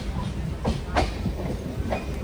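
A train's rail cars roll past with a rhythmic clickety-clack, steady and fairly close, over a rumbling background with faint voices.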